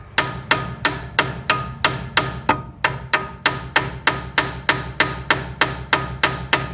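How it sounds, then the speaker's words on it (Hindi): A hammer taps repeatedly and evenly on a Skoda car's suspension shock absorber strut to drive it out, about twenty sharp metallic blows close by at a steady rhythm with no talking. "इस पर हथौड़े से थोड़ा थोड़ा मारेंगे"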